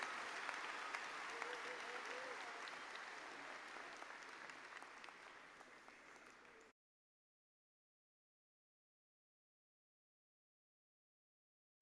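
At a graduation ceremony, a crowd applauds the graduates with dense, distant clapping that slowly fades over about six seconds and then stops abruptly into silence.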